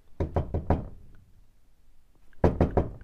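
Two bursts of knuckle knocks on a door, four quick raps then a pause and three more, close and crisp against a quiet room.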